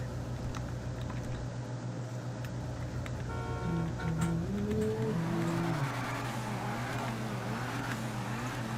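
Tuned car engine in GTA 5 Online, a steady idle drone that climbs into a rising rev midway before settling back, with game background hum, no talk.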